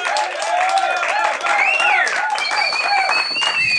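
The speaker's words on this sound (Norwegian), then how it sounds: "så vi vil gi en applaus til Tom Knudsen som kommer inn her nå." An audience at a book launch in a Norwegian upper secondary school applauds steadily in a hall while music with a sung or tonal melody plays over it, the clapping continuous for the full few seconds.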